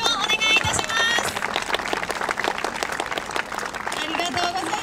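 An outdoor festival audience in Anpachi, Gifu, applauds the Gifu Prefectural Police band in 2019, with dense, lively clapping sustained throughout and a voice speaking over the crowd.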